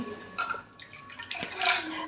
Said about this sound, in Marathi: कन्सिस्टन्सी ॲडजस्ट करण्यासाठी मी याच्यामध्ये अजून पाणी ओतत आहे